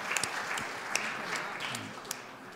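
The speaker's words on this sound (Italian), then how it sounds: "Un applauso." Audience applause at a poetry lecture in Italy, a steady spread of clapping at moderate level with a few sharper individual claps standing out.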